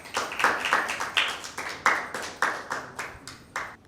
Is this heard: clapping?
yes